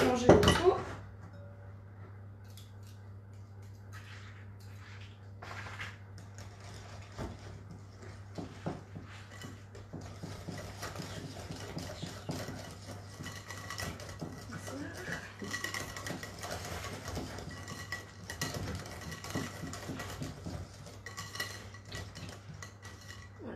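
Spoon or whisk clinks and scrapes in a bowl while cheesecake batter of fromage blanc, cream, sugar and vanilla sugar is mixed, with a steady low hum beneath and a voice talking over it.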